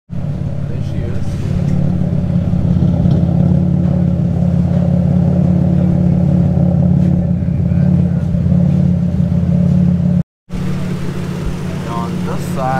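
A Nissan Maxima with a new motor, new transmission and full upgraded exhaust runs close by, a loud steady low engine drone with slight rev swells, cut briefly before resuming.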